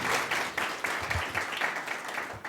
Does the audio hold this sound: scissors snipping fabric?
no